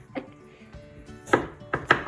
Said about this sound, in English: we chop them into very small pieces